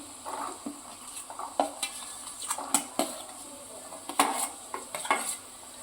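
Chopped carrots are tipped into a pan and stirred while Chinese pulao cooks, with light sizzling under scattered clinks and scrapes of a utensil against the pan, close and fairly quiet.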